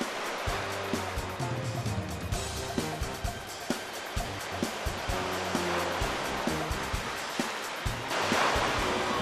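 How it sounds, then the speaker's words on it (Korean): Ocean waves surge and crash onto a rocky island shore in repeated bursts, a loud continuous wash of surf with sharp splashes breaking through. "순식간에 밀려온 파도"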